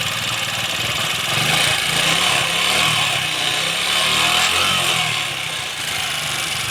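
A 70cc motorcycle engine runs close and loud as the throttle is opened during battery-charging and rectifier wiring checks, giving a steady buzzing drone with gentle swells in revs.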